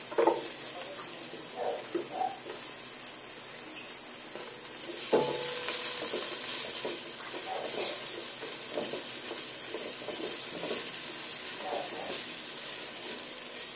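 Garlic, onion and tomato sauté in a pan, a soft steady sizzle with faint stirring clicks and scrapes that grows somewhat louder midway, with no talking.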